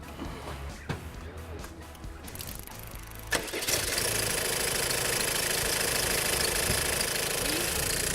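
Car engine idling close by, then a loud continuous high-pitched squeal from a slack drive belt rises over it and holds steadily to the end.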